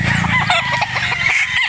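A straight comb Boston Roundhead rooster crows up close and loud, a strained call over clucking and other fowl noise.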